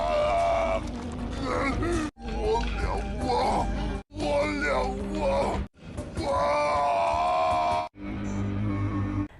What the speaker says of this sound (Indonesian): Ia pun berteriak kesakitan.